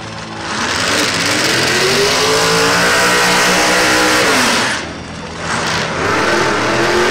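A muscle car on a drag race run roars loudly and continuously as it accelerates, the engine pitch climbing through gears, dipping briefly near the end, then surging again.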